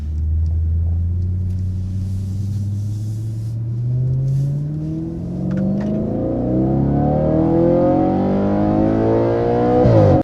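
A 2015 Audi RS5 B8.5 with its naturally aspirated 4.2L V8 engine pulling through the gears on the road, a deep steady drone rising in pitch as it accelerates, heard from inside the car.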